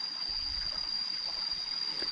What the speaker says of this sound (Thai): อันนี้ก็จะเป็นทานน้ำไหลนะครับ